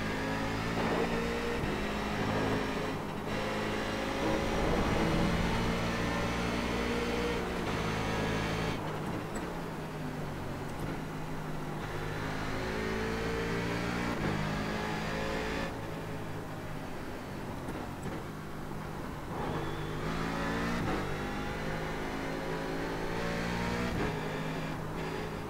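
Corvette C7 DP race car engine in the iRacing game at Road Atlanta, revving hard and repeatedly dropping and climbing through gears, loud and continuous with brief lifts between shifts.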